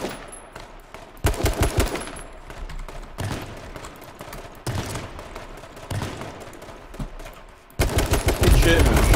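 Shotgun blasts from a video game fight ring out as repeated loud, sharp bursts, clustered into volleys with brief gaps, close and punchy, with faint talk underneath.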